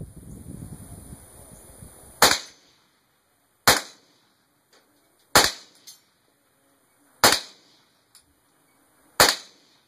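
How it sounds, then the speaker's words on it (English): Five sharp cracks from a Mossberg 702 Plinkster .22 rifle fired at a small steel target, each shot spaced a second or two apart with a faint metallic ping and quick decay, outdoors. "there is a little steel target, and we're going to take a few shots at that"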